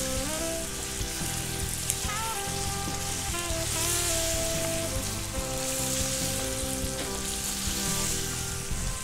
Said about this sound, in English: Always fry your meat on high heat.